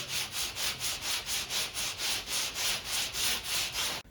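Steady back-and-forth hand sanding on particle board, a rhythmic scratchy rasp repeating about three times per second, close and continuous.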